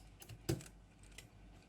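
Keystrokes on a Geek GK64 mechanical keyboard with brown tactile switches and clicky blue switches on the arrow keys, heard as a few sparse, quiet taps with one sharper press standing out.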